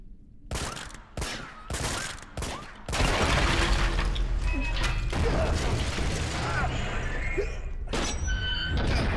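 Gunfire in the video game Uncharted 2: Among Thieves, several sharp separate shots early, then a sustained rattling fusillade with mechanical clatter and a final burst near the end, loud and close.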